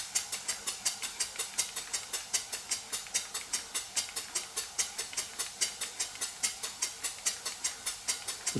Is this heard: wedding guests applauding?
no